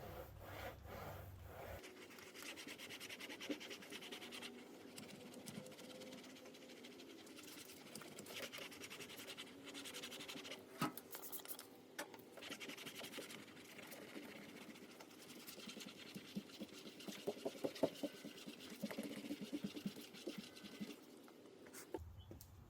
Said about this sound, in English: start with the synthetic clay block. Then go back and forth.